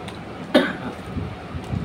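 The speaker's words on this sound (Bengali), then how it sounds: "কি হলো তোমার, কাশি হচ্ছে কেন?" A single short, sharp cough from a person at a home meal, close by and moderately loud, followed by low room noise with no talking.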